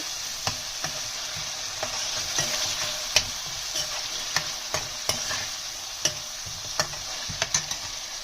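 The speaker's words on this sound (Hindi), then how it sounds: "आलू को भी अच्छे से हम इसमें भूनेंगे।" Potatoes and tomatoes frying in a pan while cooking Sindhi dokri: a steady bright sizzle runs throughout, broken by regular scraping stirs of a spoon against the pan, with no voices.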